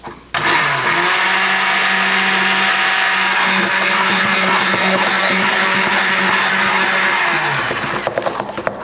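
A blender motor starts abruptly and whirs loudly at a steady pitch for several seconds mixing homemade sunscreen, then winds down to a stop.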